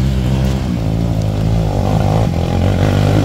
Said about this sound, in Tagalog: Malakas yung motor ni Master Ricky.